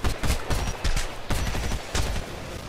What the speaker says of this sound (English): Who the hell is shooting me from behind?